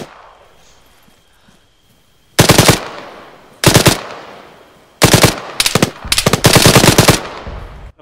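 Bursts of automatic gunfire in ARMA 3 battle royale, several sharp loud volleys of rapid shots separated by short gaps, each trailing into echo over a quiet background.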